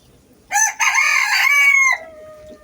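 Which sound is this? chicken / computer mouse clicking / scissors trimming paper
chicken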